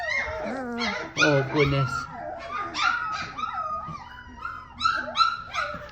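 Week-old Griffon puppies, three weeks old, whimpering, yipping and giving thin wavering howls close up, several pups overlapping in bursts, with someone speaking briefly over them.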